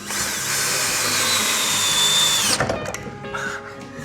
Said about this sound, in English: Just put the lag screws back in.